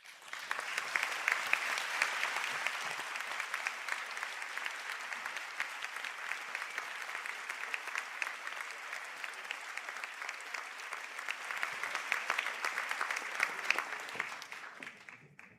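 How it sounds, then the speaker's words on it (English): Steady, moderately distant applause fills a hall as graduates stand at a conferring ceremony for Sligo and St Angela's, even and continuous throughout before tapering off at the very end. "to please stand for a round of applause"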